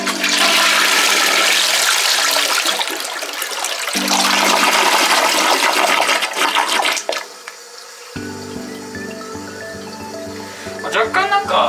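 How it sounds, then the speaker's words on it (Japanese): A toilet flushed to test water flow through a drain during a manhole cleaning job, a loud rushing gush that surges, changes, and trails into gurgling trickles, close to the recording device. "全体の清掃した時に何もなかったので通水確認します"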